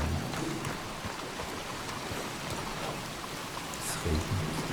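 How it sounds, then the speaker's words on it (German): Steady rain in Red Dead Redemption 2 pours down with a dense, hissing patter, constant throughout, with a faint low rumble underneath. "Es regnet."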